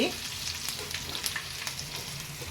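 Fish deep-frying in oil, a dense continuous sizzle close up with light crackles scattered through it, steady and fairly quiet.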